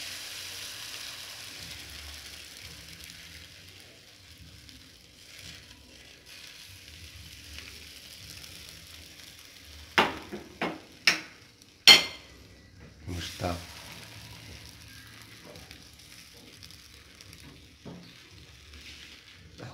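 A tapioca crepe cooks in a nonstick pan with a faint, quiet sizzle, broken midway by a brief cluster of sharp utensil clacks against the pan, and no voices.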